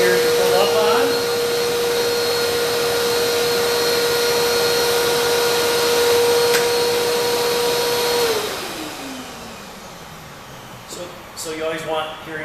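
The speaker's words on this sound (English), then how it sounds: "And our vacuum's quite loud." A loud workshop dust collection vacuum at a sanding station runs with a steady, high whine, then spins down and fades as the pitch drops, leaving a quieter hum with a few clatters at the end.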